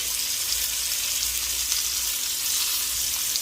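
Chunks of beef seared a few at a time in a pan for beef bourguignon, giving a steady, even sizzle that stays at one level throughout, with no talk.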